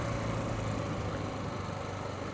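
A KTM 690 Enduro R single-cylinder motorcycle engine runs in second gear, giving a steady, close, unbroken drone with a low rumble and no change in pitch or level throughout.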